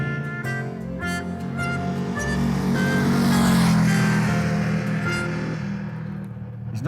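A motorcycle laps a racetrack during tyre testing, its engine loudly revving and rising in pitch as it passes close, then fading away with a gear change near the end.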